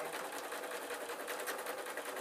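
Sewing machine running steadily as it stitches the legs onto a spider soft toy, a close, continuous rapid whirring hum throughout.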